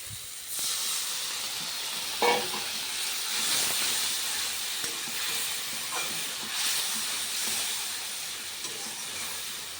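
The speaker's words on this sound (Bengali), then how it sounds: "অল্প জল দিয়ে কষিয়ে হবো" Tomato, peas and ground spices with green chilli sauté in a pan with a little water, giving a steady broadband sizzling hiss with a few soft clinks and stirring scrapes, close and continuous.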